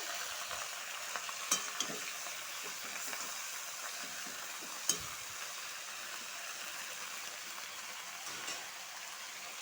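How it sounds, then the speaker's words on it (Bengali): Vegetables with salt stirred in a hot pan: a faint, steady sizzle runs throughout, broken by a few light scrapes and clicks of the spoon against the pan. "নুন দিয়ে একটু ভালো করে লাড়াচাড়া করবো"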